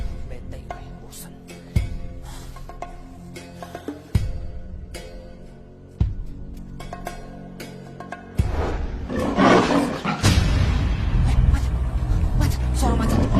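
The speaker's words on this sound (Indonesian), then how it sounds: "Suara macan." Roaring tiger in a dramatized scene, loud repeated growling roars over background sound effects and music, with a voice speaking partway through.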